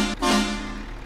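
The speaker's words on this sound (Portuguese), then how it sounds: "Chama na buzina." Single short horn blast from a Scania 124G truck in Euro Truck Simulator 2, a loud tonal honk that cuts in and fades over about a second, with no voices.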